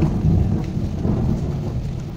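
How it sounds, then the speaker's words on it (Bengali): Rain pours steadily at a family home with mango trees in blossom, joined by deep rolling thunder that rumbles low and continuous throughout, loud and close with no voices. "বৃষ্টি পড়ছে"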